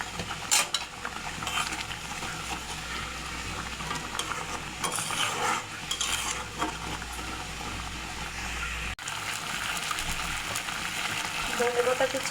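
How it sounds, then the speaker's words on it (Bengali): Fried poa fish goes into boiling mustard gravy and is stirred, with bubbling, sizzling and clinks of utensil on pot, and a brief break partway through. "এখন ভেজে রাখা মাছ দিয়ে দেব"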